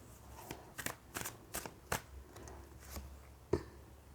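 Tarot cards being gathered and shuffled by hand: a series of crisp, close riffling snaps and soft slides at an uneven rhythm, fairly quiet, with no talking.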